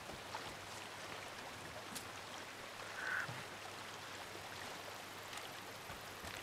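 Gently flowing, lapping water in a river setting in the video game Days Gone, a soft steady stream sound that stays faint and continuous, with a brief slightly louder splash midway.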